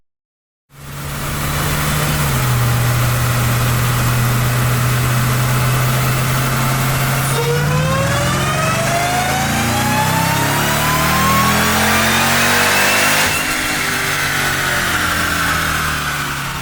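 A Jeep Trackhawk with a Stage-1 package runs on dyno rollers, starting abruptly into a steady loud drone before the engine revs up through rising gears, its pitch climbing in sweeps.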